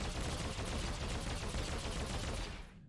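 Lethal Shots gunfire from a sniper in the Star Wars: The Old Republic video game, a dense, continuous burst of rapid shots filling nearly three seconds before cutting off abruptly.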